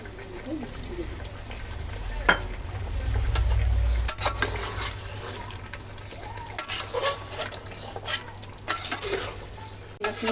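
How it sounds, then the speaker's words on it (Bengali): Chicken rezala being stirred in a pan, with soft scraping and faint sizzling running steadily beneath a voice talking throughout, plus a few brief clinks of the spoon against the pan. "দশ মিনিট হলে নাড়াচাড়া দিচ্ছি আমি"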